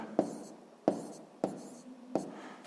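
A pen writes out the answer to a sixth-grade math exercise in four distinct tapping strokes, each a short scratch on paper with a brief fading tail, evenly spaced and close by, with no talking.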